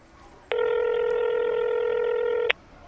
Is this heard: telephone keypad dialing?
yes